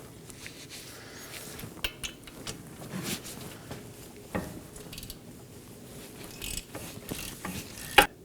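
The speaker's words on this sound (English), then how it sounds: "Now I'm going to go ahead and remove the 3 18mm bolts holding the wheel hub and bearing assembly onto the knuckle." A ratchet works on the 18mm bolts of a front wheel hub and bearing assembly on a 2018-2024 Chevrolet Equinox, giving close, repeated clicking pawl sounds with occasional sharper metallic clanks, the last one loudest.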